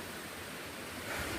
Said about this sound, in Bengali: এই দেখো এই ঝর্ণার জল আইতাছে